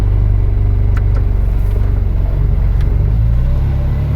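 A 2010 Ferrari California engine running rough on a test ride after an oil change, a loud low rumbling drone with an uneven pulsing throb and a few brief clicks.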